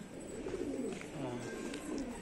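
Wild pigeons coo at a feeding spot, low, soft repeated coos close by over a faint outdoor background.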